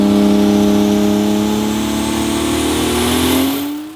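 A Toyota Corolla fitted with a six-cylinder engine revs hard and close, one loud sustained rev that climbs steadily in pitch and then drops off at the end, with no voices.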